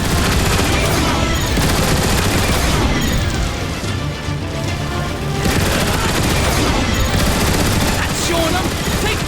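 Turret gun emplacements blaze away in the Transformers War for Cybertron video game, a loud, continuous barrage of rapid gunfire and booms with a brief lull midway, layered with game sound effects.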